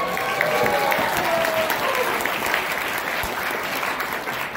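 A town hall audience in Las Vegas claps steadily and densely at a political campaign event, a continuous wash of applause with no speech over it.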